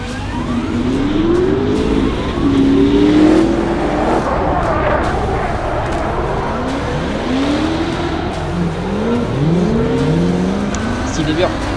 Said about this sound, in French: le bruit des V8 qui travaillent, deux V8 compresseurs